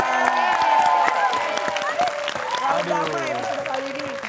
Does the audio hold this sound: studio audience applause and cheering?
yes